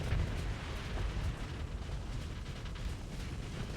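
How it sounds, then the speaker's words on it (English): Ship weapons fire a rapid series of shots in the Starsector space combat game, a dense rumbling barrage of booming bursts that runs steadily throughout without a clear break. "We'll just do a quick drive-by series of shots here"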